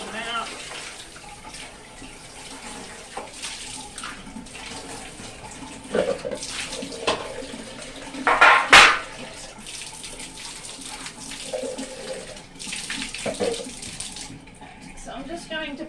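Water from a tap splashes and runs while a container that held green dye is rinsed out for fabric dyeing, a steady close rush with a few louder clatters partway through.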